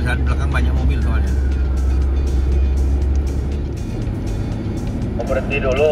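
Steady road traffic from many cars in a town, a continuous low rumble of engines close behind with occasional passing swells, under ongoing talk inside a moving vehicle.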